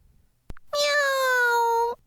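A person mimics a cat's meow, voicing one drawn-out, clear, close "meow" after a brief click, with no background noise.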